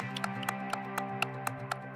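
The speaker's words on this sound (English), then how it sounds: "there's also a click that happens that keeps us on tempo" Steady metronome clicks tick at an even tempo, roughly four per second, over a low sustained musical hum.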